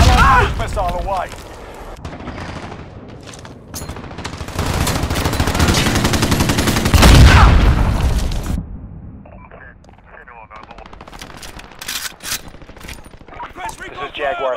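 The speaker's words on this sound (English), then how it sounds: "Missile away." Call of Duty: Modern Warfare: a missile launch builds into a long roaring rush that peaks in a heavy boom, with scattered gunfire around it and voices talking before and after.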